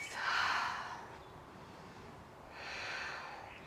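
Soft, close breaths during a flowing yoga sequence: one long exhale, a quiet pause, then another slower breath, all faint against near silence.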